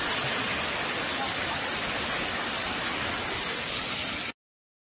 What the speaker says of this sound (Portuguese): eu acho linda essa cachoeira aqui